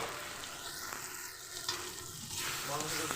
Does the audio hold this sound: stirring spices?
yes